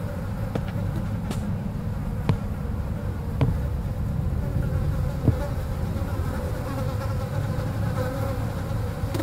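Flies buzzing around a dead rat in the game From Day To Day: a steady, close insect drone, continuous and even, with faint clicks scattered through it and no talk.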